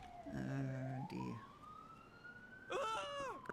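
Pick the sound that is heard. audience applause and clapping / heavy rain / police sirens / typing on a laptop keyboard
police sirens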